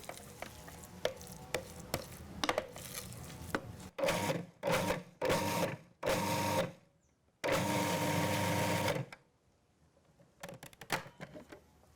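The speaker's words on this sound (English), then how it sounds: "So we're going to blend it, not too fine." A blender grinds a Balinese bumbu genep spice paste made with coconut oil in short bursts, roughly one second each, then one longer run. Loud, close whirring alternates with pauses and light clatter.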